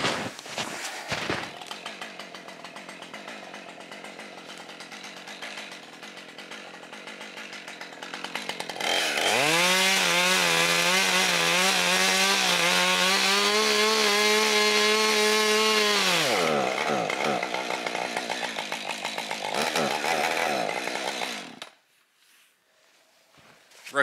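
A chainsaw bucks a black cherry burl log in the woods. It idles and revs unevenly, then bites in with a loud, sustained whining cut for several seconds before dropping back and cutting off.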